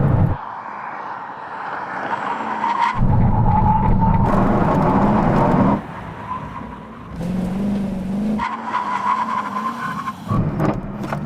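Koenigsegg Agera RST and Tesla Model X Plaid in a drag race, engines roaring and revving hard through repeated gear shifts, loud and close, sustained acceleration with brief drops between pulls.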